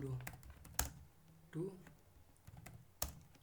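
Java code typed on a computer keyboard: scattered, sharp key clicks and a few heavier presses in an irregular rhythm, close but quiet, with no clear speech.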